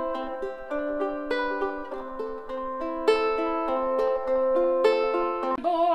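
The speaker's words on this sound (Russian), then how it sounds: "что мне пока нравится, это реверб вот этот вот, который дает эхо, объем звучания" A Flight Sophia TE Soundwave ukulele plays a bright melody of plucked notes through a reverb effect, with echoing, spacious sustain, heard alone and close without any talk, ending with a quick strum.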